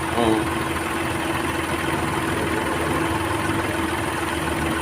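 A Hyundai Xcent 1200 cc car engine idles with a steady, loud, even hum and a constant low drone, holding unchanged from start to finish.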